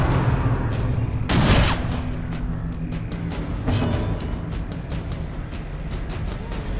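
A blight grenade bursts in the dungeon-crawler video game Darkest Dungeon, giving two sharp, loud blasts over a steady rumbling game background.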